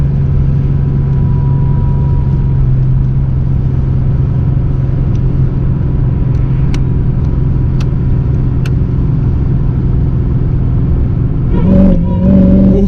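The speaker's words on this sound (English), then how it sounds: "That supercharger is something. Like, you can actually hear it from inside." Supercharged Mercedes CL55 AMG with 630 wheel horsepower accelerating, heard from inside the cabin: a steady, loud engine drone with a low hum that holds evenly throughout, a few faint clicks, and a short rise in noise at the end.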